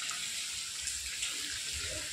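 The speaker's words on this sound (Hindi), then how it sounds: "ये बारिश करीब 11 बजे से ही हो रहा है" Heavy rain with flood water filling the area around a site; a faint, steady rushing and splashing of running water, continuous and even across the short stretch, with no voices.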